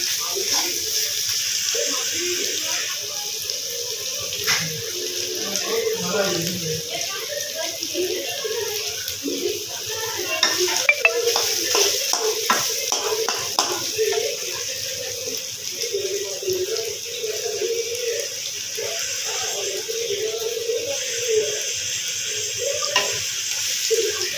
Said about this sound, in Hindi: यहाँ पर ये अच्छे तरीके से फ्राई हो रही हैं बोटियाँ